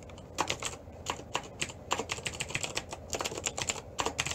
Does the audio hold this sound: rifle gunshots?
no